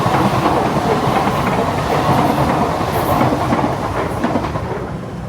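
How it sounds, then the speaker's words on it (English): A Singapore MRT train rumbles past close by on above-ground tracks, a loud continuous roar with wheel clatter holding steady for the whole span before easing slightly at the end. "when the train passes, we'll see it quite close"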